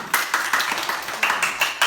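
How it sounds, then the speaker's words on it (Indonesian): Several rounds of bright, quick hand claps come in an uneven rhythm, sounding like a small group of third-grade children clapping together up close in a classroom. "Tepuk tangan."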